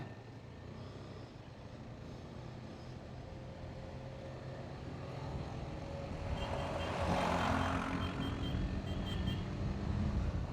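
KTM Adventure 250 motorcycle pulling away along a dusty dirt road, a steady low engine drone that swells louder toward the end.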